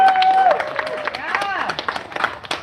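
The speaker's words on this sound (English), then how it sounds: "Let's get another round of applause." Crowd at a campaign launch for a Ward 14 councillor candidate claps and cheers, a steady wash of applause with scattered whoops and voices layered throughout, fairly close and moderately loud.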